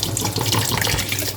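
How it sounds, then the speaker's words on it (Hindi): Water pours steadily from a 1.5-litre bottle into a pot of soaked wheat and barley daliya for mutton haleem, a close, continuous splashing stream with no talk. "अब इसमें मैं पानी डाल दूंगी"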